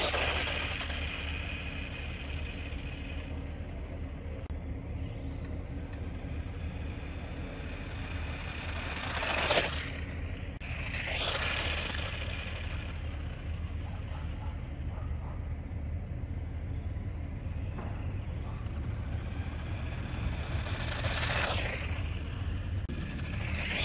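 A Tamiya Grasshopper RC car upgraded to a 540 motor runs steadily, its electric motor giving a continuous whine and rumble at moderate loudness, with a couple of brief sharper bursts as it passes, and no talk.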